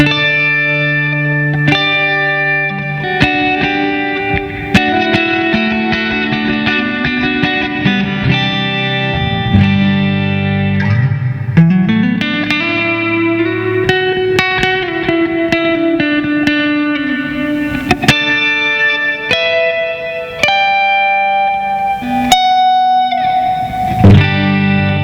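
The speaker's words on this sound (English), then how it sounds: "here's the Red Panda Context, all knobs. I'm going to put them at noon on the Hall setting." An electric guitar plays sustained chords and gliding single notes through a Red Panda Context reverb pedal on its Hall setting, with all knobs at noon. The playing is close and loud, and the notes decay in a long, spacious reverb tail.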